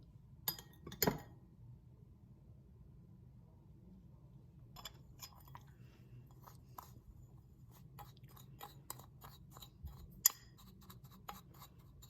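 Spoon mixing cinnamon, coconut oil and sugar together in a bowl, with faint clinks and soft scraping, a few sharper taps near the start and scattered light ticks later, quiet and close, no voice.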